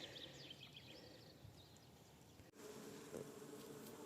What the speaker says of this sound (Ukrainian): Послухайте, як гудуть бджоли.